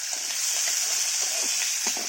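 Dried red chillies fry in hot oil in a kadai, a steady close sizzle broken by small irregular pops and crackles, with no one speaking.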